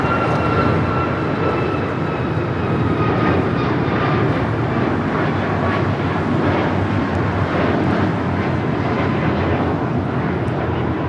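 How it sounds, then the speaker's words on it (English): A Boeing 777 cargo freighter taxis and turns at LAX, its engines giving a loud, steady, broad roar with faint whining tones that holds unbroken throughout, with no talk over it. "Green Air Cargo 777 freighter making that turn onto Alpha 8"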